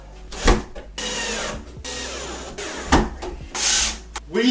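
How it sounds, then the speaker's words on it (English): A power drill drives a screw into pallet wood shelving in several short bursts, whirring close and clear with brief knocks and pauses between runs. "Get a screw and the drill."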